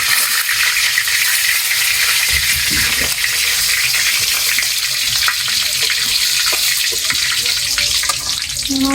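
Loud, continuous sizzling of oil in a home kitchen pot, with bay leaves dropped in after meat has been fried, heard close up with a few faint voices in the background.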